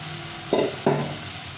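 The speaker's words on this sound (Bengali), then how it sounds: "দিয়ে ভালো করে কষিয়ে নেব" Fried potato and cauliflower are stirred into a spice paste in a pan, two quick scraping stirs over a soft continuous sizzle, close and clear.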